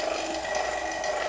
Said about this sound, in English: Sorry about the noise, but the vacuum pump has to be running.